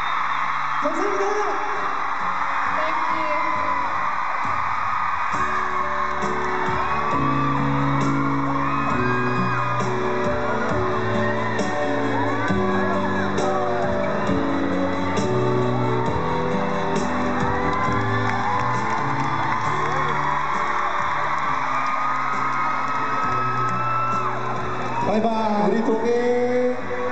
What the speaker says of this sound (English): 소리 한번 질러주세요. Please scream for us.